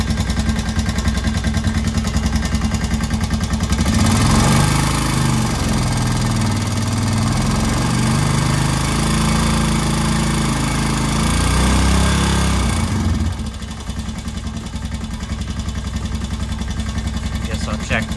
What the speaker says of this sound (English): I want to say it's definitely lifter noise